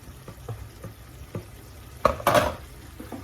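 Eggs poured and stirred into bitter gourd and tofu frying in a pan, a soft sizzle under scattered utensil taps, then a louder burst of scraping and sizzling as the eggs go in.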